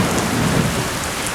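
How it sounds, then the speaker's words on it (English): Steady rain pours with a low rolling rumble of thunder at the start of the rainy season on the Serengeti savannah, a dense continuous wash of sound with no voices. "The first drops fall like liquid life, stirring the dry earth and summoning lush pastures bursting with vitality."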